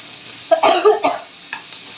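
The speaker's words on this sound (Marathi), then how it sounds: "आता कांदा पण गोल्डन ब्राऊन कलर येईपर्यंत तळून घेऊया" Thickly chopped onions fry until golden brown for a bitter gourd dish, giving a short stirring scrape and sizzle with a few bursts of louder clatter, close and alone.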